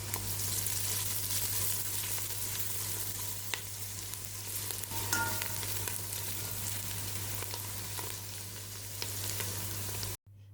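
Onion and garlic fry in oil for basmati rice, a steady broadband sizzle with occasional scrapes from stirring, close and continuous, with a constant low hum beneath and no voices.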